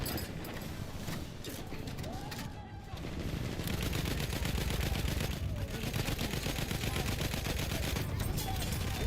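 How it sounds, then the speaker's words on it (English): Dense, continuous rapid gunfire with sharp bursts and crackling, layered with game effects from Battlefield 1, steady and loud throughout. "I just saw the gunfire."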